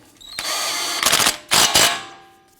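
A power tool drives the CV axle nut tight on a 2004-2008 Acura TL, buzzing loudly and steadily, then rattling in two bursts of impact hammering before winding down, close by with no talking.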